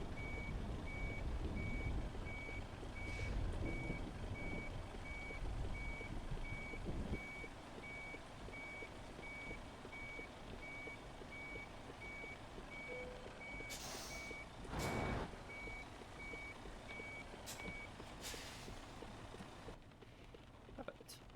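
Reverse warning beeps from a truck backing up in Euro Truck Simulator 2, repeating steadily under a continuous engine drone, with a person talking over it and a sharp thump near the middle.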